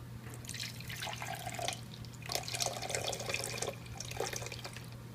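Water pours steadily into a container resting on a kitchen scale, a soft, close trickle and splash over a low constant hum.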